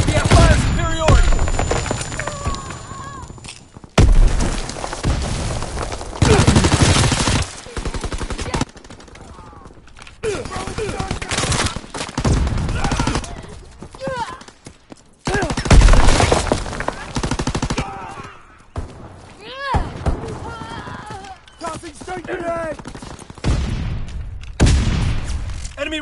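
Loud bursts of automatic gunfire and explosions in a PS4 shooter, heavy volleys alternating with quieter gaps, with shouted in-game voices between bursts.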